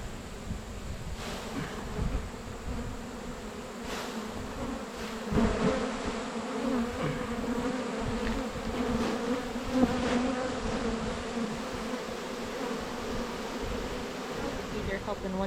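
Dense, steady buzzing of many honeybees swarming around an open hive box during a honey harvest, close and continuous, with light handling noise and occasional faint voices.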